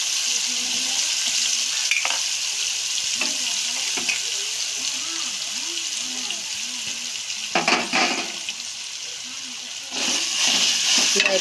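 Raw banana pieces fry in a pan with a steady, close sizzle, broken by louder scraping bursts as they are stirred, most clearly near the end.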